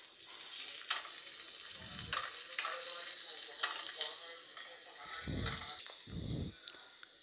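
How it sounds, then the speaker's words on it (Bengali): Chopped onions fry in oil in a pan while cooking fish roe, producing a continuous close sizzle with a few brief low thumps of stirring. "পেঁয়াজ কুচিগুলো দিয়ে পেঁয়াজটা একটুখানি ফ্রাই করে নিতে হবে।"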